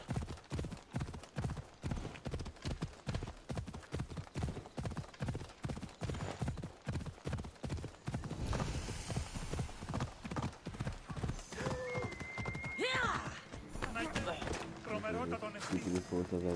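Rapid, steady hoofbeats of a galloping horse in the video game Assassin's Creed Odyssey clatter along, then give way to a neigh and brighter tonal sounds toward the end, with occasional speech.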